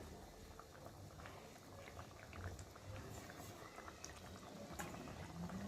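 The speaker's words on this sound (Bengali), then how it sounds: "আর এখন ভেজে রাখা মাছগুলো আমি ঝোলের মধ্যে দিয়ে ভালো করে ফুটিয়ে নেব" A poa bhola fish curry bubbles in a pot, a low, steady simmering burble that stays quiet and continuous, with no talk.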